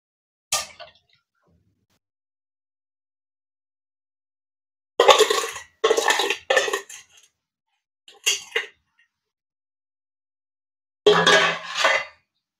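A pan clanks onto a stove and watermelon-rind preserve ingredients are tipped into it, heard as a few short bursts of metallic clatter and scraping separated by long silences.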